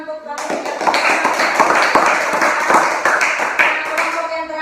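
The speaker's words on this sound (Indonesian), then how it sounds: "Tepuk tangan untuk kamu." A classroom group claps for a student, with sharp individual hand claps standing out in an uneven rhythm over a steady bed of applause, close and fairly loud.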